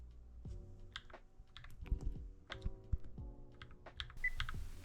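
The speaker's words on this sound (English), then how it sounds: "You can hear the plastic sound every single press." Typing on an Akko 3068B mechanical keyboard with loud plastic-sounding switches produces a quick series of sharp, close clicks and clacks, each keypress distinct, with no talking.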